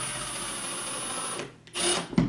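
A small pilot hole drilled into a wall stud, a faint steady whirring drill that stops briefly, then starts again in a short burst.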